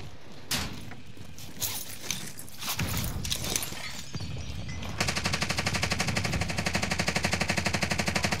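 Machine gun fire in a multiplayer shooter video game, starting with scattered shots and then becoming a loud, steady rapid burst over the final few seconds, with no talking.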